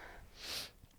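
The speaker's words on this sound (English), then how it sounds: "Sorry for the sniffles." One quick, close, wet sniffle from a runny nose, a brief airy snort in an otherwise quiet moment.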